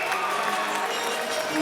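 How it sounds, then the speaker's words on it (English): Basketball crowd at an NBL Canada playoff game, a steady broad roar of noise and applause filling the arena throughout, with no pause. "the crowd yelling for"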